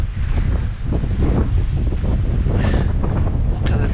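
Strong wind buffets the microphone on the northern Scottish coast, a steady loud roar with gusty rumble throughout and no voices.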